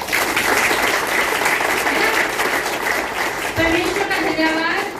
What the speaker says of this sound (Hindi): आगे जोरदार ताली बजाने एक बार।